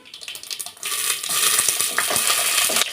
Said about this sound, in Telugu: ఆయిల్ వేడెక్కాక మెంతులు జీలకర్ర వేసుకోవాలండి ఫస్ట్ ఆవాలు మినపప్పు పచ్చిమిర్చి